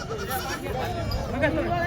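A native Osmanabadi goat bleats nearby amid a busy, crowded goat market in Vasmat, Hingoli district, with voices chattering in the background.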